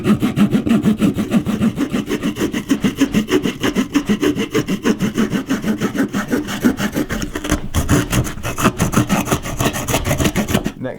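A Victorinox Swiss Champ pocket knife's small saw blade cutting through a piece of wood, with rapid back-and-forth rasping strokes in a steady rhythm, close and fairly loud, continuing without break and with no talking.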